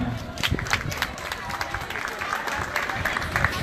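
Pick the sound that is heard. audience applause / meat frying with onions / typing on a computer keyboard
audience applause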